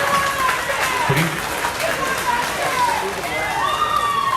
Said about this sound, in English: Big round of applause for Atlanta on that one, shutting out Nashville